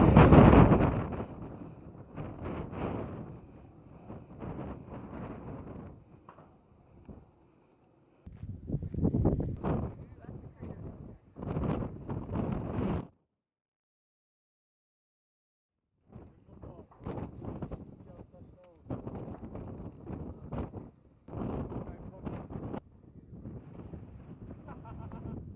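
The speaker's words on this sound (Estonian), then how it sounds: "kui siin on tõeliselt tuuline." Strong wind gusts at the summit of the Koko Head volcano batter the microphone in loud, rough bursts, broken by a few seconds of near silence before the gusts return.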